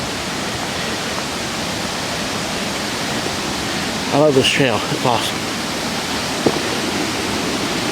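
Continuous roar of a waterfall on the Glade Creek Trail, an even wash of water noise throughout, with someone talking briefly over it near the middle and a small knock afterward.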